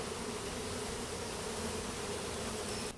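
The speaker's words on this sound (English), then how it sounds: "Still got a few bees up here hanging around being all contrary." Honeybees from a hive that has just swarmed drone continuously at close range, a dense steady buzz with no talk, ending in a brief knock.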